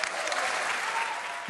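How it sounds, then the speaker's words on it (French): An audience applauds France's Minister of Culture, Rima Abdul-Malak, with dense, steady clapping from a large crowd that holds evenly for a second and a half. "La ministre de la Culture qui a fini par être applaudie"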